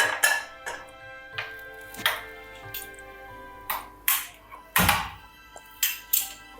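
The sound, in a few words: kadai pan being handled for caramelizing sugar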